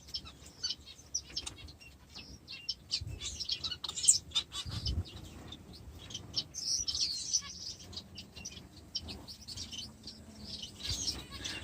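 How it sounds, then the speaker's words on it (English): Tame aviary-bred Bengalese finches chirp in an aviary, giving soft, scattered high tweets at irregular intervals, with occasional wing flutters and quiet background rustle. "So the finches are quite tame. They get used to you."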